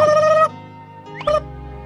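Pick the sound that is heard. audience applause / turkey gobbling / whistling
turkey gobbling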